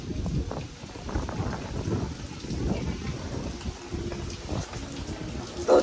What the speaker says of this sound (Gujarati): હજી તો વરસાદનું પૂરું જ નથી થતું ચાલુ છે વરસાદ